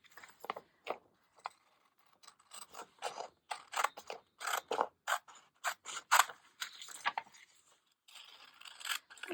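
Scissors snipping through a paper journaling card, a close series of crisp cuts in irregular bursts with short pauses between, alone and without talk.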